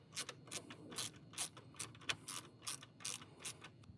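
A ratchet fitted with a 7mm socket turns a screw into the door of a 2007 Ford F250, giving a steady run of about a dozen sharp clicking bursts at close range, with no talking.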